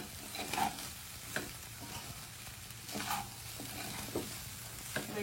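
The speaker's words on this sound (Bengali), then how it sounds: "এই সমস্তগুলো আমরা ভালো করে মিশিয়ে নেব" A spatula stirs vegetable fried rice in a pan, soft scraping and periodic knocks against the pan over a low, steady sizzle, close and fairly quiet.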